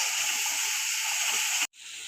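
Chili, cumin and coriander powder masala hisses and sizzles steadily in hot oil while frying for pasta, a bright constant crackle that cuts out briefly near the end before resuming.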